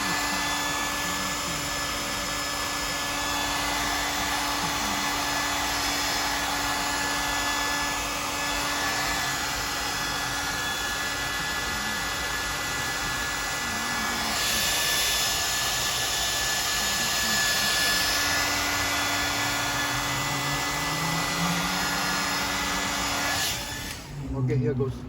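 A hair dryer blows steadily at close range for most of the stretch, speeding paint drying on a sculpted Rommel figure head and neck, with a brief rise in airflow midway before it cuts off near the end.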